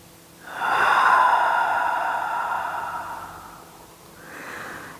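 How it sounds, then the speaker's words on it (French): One long, deep breath taken during a yoga stretch, a close airy inhale lasting about three seconds followed by a softer exhale, with no talking. "Une dernière grande respiration."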